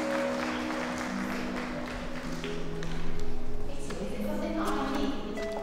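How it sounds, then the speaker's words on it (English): Schoolchildren clap together in a primary school drama lesson, giving a steady, dense patter of applause that swells briefly midway and then settles, close and continuous with no talk over it. "So I think she deserves a clap"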